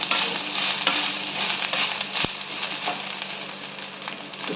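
Coconut and garlic dry-roasting and being stirred in a hot pan for garlic chutney, a steady soft sizzle and scraping with one sharp clink partway through.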